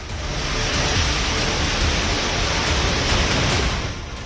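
Heavy rain pours steadily over flooded Delhi streets, a loud, dense broadband hiss that holds constant throughout with no voices.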